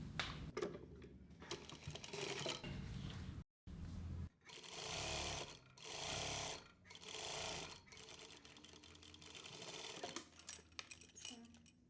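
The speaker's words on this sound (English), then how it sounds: "keep right on right and sew the hemline half inch in from the edge" A sewing machine stitches a hemline half an inch in from the fabric edge for a cap sleeve, running in several distinct bursts of rapid close mechanical whirring separated by short pauses.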